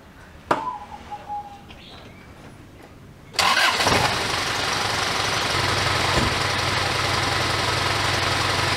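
A car engine cranks and catches, then settles into a steady loud idle close by, in a workshop during an air-conditioning service.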